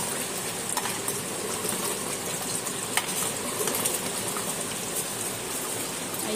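Mutton frying over a high gas flame, a loud, continuous dense sizzle and crackle with occasional sharper pops, steady throughout and close.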